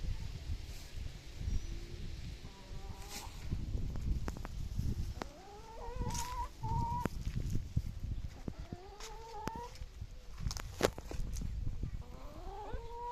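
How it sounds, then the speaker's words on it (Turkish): Wyandotte chickens and a rooster cluck in a coop, a steady low murmur with rising calls scattered throughout, heard close. "Dört tavuk bir horoz kaldı."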